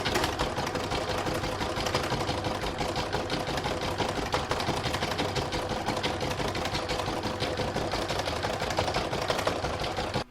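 A sewing machine steadily quilts a section of a single-fabric Christmas star piece, running continuously and evenly at a fast, close, dense whir for the whole stretch before stopping abruptly at the end.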